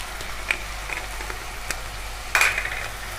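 Peas and red chili frying in a pan, a steady soft sizzle with a few brief clinks of a utensil against the pan, one sharper scrape near the end, no voices.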